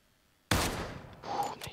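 A single loud, close gunshot in the video game ROE, a sharp blast followed by a rumbling tail and a brief second crack, with no talk.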